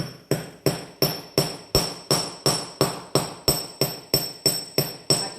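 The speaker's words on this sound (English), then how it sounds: "I ease up on my hammer stroke as I approach that midline." A hammer strikes metal stock on a bench block in a steady, even rhythm of about fourteen sharp ringing blows, each decaying quickly, close and loud with no talking.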